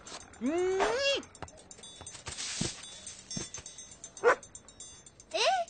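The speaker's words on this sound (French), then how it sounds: "Je suis sûr que le chien peut nous aider dans cette enquête, Sally." Cartoon dog yips and whimpers in a high, sliding cry near the start, followed by a couple of shorter yelps later, all fairly close and clear with no talking over them.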